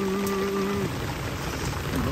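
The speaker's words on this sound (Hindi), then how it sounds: "तकड़ी बारिश हो रही भाई" Heavy rain pours down steadily in a hillside mountain village, a dense continuous wash of noise with a faint engine-like hum underneath for the first moments.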